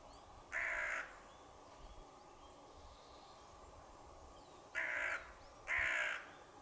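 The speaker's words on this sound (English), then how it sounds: "The crow then reappeared and became quite vocal, as if scolding someone or something." A crow caws three times outdoors, one call early and then two more in close succession later, each loud and harsh over quiet background ambience.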